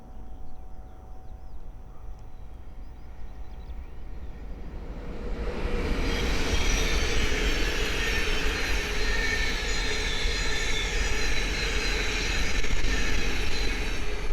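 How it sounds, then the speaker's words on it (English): A Thameslink Class 700 electric train running from Peterborough to Horsham passes on the East Coast Main Line at Great Wymondley, its roar swelling from near quiet to a loud, steady rush that holds to the end. "the next train to pass by is a Thameslink 700 from Peterborough to Horsham"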